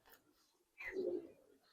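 A Giribaz silver Benji pigeon in a loft gives one short, soft coo after a quiet pause, close but faint.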